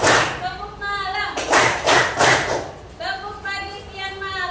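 A school class chants together, then claps in a burst of five or six quick, sharp beats before the chanting resumes.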